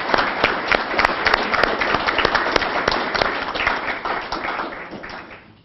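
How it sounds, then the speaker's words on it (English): Sustained audience applause at an awards ceremony honouring kids, dense clapping from a large crowd filling the whole stretch at steady loudness before tapering slightly toward the end. "Give yourselves a round of applause."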